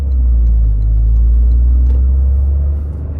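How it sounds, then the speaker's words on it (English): Turbocharged engine of a 2024 Toyota GR Corolla heard from the passenger seat, a loud, steady low rumble with a slight rise in tone and no talking. "This turbo noises though."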